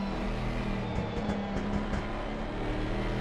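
A Mercedes-AMG GT4 race car in a racing video game, its engine growling at a steady drone with a strong low hum and a few gear-change dips, loud and continuous throughout.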